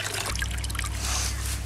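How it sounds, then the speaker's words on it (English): Water trickling and dribbling from a bag of worm castings being squeezed by hand to make compost tea, a short close wet pour with no talk. "pulling this out, squeezing the water out of it."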